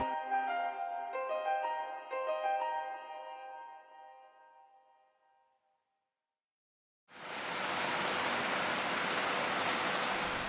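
After a fading melodic tune and a moment of silence, steady rain in Canggu, Bali suddenly starts and pours evenly, a dense close hiss with no voices.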